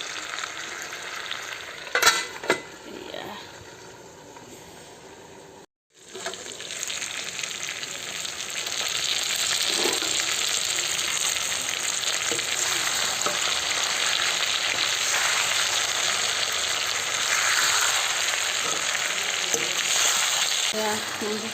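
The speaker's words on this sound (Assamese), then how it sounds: "মাংসখিনি ভাজি ৰেডি হৈছেগৈ।" Meat sizzles and spits as it fries in a pan, a steady bright crackling that starts after a few stirring knocks and a brief pause, then runs continuously and close.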